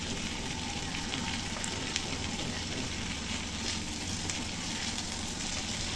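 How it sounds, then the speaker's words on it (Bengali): Potatoes being stirred and fried in an open pan give a steady, dense sizzle with a few faint crackles, constant and close, with no talking. "এখন আরেকটু ঢাকনা খোলা রেখে আলুটাকে এভাবে নেড়ে চেড়ে কষিয়ে নিচ্ছি"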